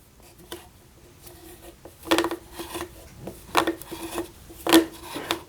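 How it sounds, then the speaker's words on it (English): Gear floss scrubs a lead screw on a Next Wave Shark CNC machine, giving irregular rubbing and rasping strokes that build into several louder scraping bursts, close by with no speech. "my preferred method for cleaning the lead screw is by using the gear floss"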